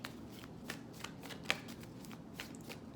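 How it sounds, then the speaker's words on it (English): A deck of Moonology oracle cards is shuffled by hand, producing a steady run of crisp riffling flicks and taps close by, with no talking. "let me just shuffle these again and see what else wants to come out"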